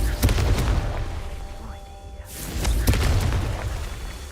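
A Confringo blasting spell from Hogwarts Legacy bursts with booming explosive impacts, a couple of sharp blasts over a rumbling low background, with a brief quiet gap in the middle.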